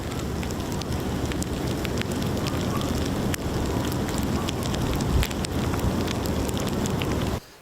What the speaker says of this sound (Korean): 먹성 좋은 누에가 뽕잎을 먹는 소리는 마치 비 내리는 소리 같다고 하죠